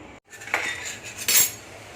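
Fruit being chopped for a homemade fruit salad and custard, with a couple of close metallic clinks and scrapes of a knife against a dish in a quiet kitchen.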